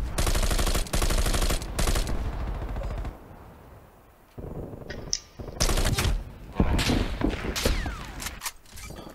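Loud, close gunfire in a Call of Duty Raid multiplayer match: rapid automatic bursts and single shots crowd the first two seconds, ease off into a quieter lull, then return as dense, repeated volleys.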